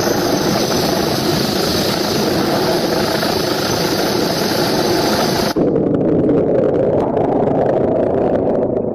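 A helicopter hovers over a flood rescue of two stranded people, its rotor and engine making a loud, steady broadband roar throughout, the sound dropping slightly in brightness partway through but continuing without any voices.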